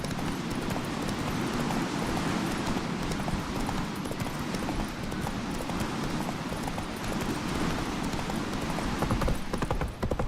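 Roach, a horse in The Witcher 3, gallops at full pace, a dense continuous drumming of hooves with an unbroken rhythm over a rough, noisy background.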